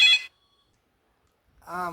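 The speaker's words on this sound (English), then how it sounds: "And my phone ringing." A phone ringtone sounds as two short, bright electronic bursts, one at the very start and one near the end, separated by silence, in a house.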